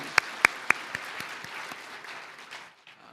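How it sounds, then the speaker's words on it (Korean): Church congregation at a Korean New Year's Eve worship service claps in praise: a few sharp, loud claps open, then a looser, softer patter of scattered hands that fades out. "우리 하나님께 영광의 박수 올려드립니다"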